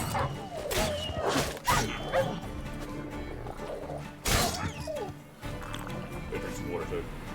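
Dogs barking in The Witcher 3 game, loud bursts of barking and yelps in uneven clusters over game music and effects, with a person talking over it.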